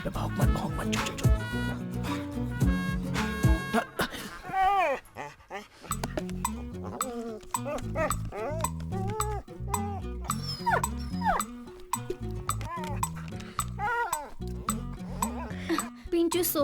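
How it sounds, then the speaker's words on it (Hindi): A dog yips and barks repeatedly in short bursts over music and background clatter, with a person speaking intermittently. "अबे भौंक मत, चुप चुप चुप।"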